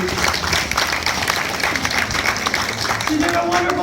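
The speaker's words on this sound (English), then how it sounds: "let's have a big round of applause for our newest astronaut, Grace." A space center audience breaks into sustained applause for a new astronaut, dense clapping running continuously with voices talking over it.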